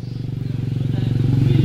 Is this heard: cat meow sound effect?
no